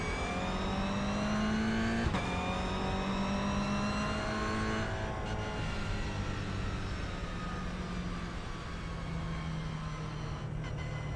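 Toyota GR86 Cup race cars at Mugello hold a loud, steady engine drone through a rolling start behind the pace car. Several engine tones rise and fall, with a sharper change near the middle.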